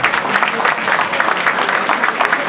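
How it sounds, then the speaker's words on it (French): A crowd at a Senegal-themed post-match gathering applauds a donor of land for a school; a dense, continuous wash of clapping stays loud and even throughout the short stretch. "Je vous demande d'applaudir ici M. Ouad pour ça"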